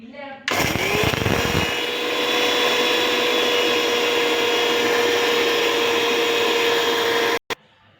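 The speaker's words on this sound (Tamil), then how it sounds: "இப்போ ஜீரகத்தை நம்ம பவுட்ரு பண்ண போகிறோம்" A mixer grinder powders cumin seeds: a loud, steady motor whine with a sustained hum starts abruptly, runs continuously for about seven seconds, then cuts off, followed by a brief knock.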